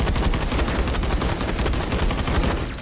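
Flak cannon in the space combat game Everspace 2 firing a dense, rapid burst of loud, crackling shots that run continuously for about three seconds with no voices over them.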